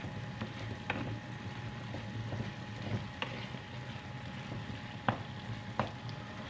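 Ground meat giniling frying in a pan with Filipino-style Del Monte sauce, a steady low sizzle throughout with a few sharp clicks of a utensil against the pan.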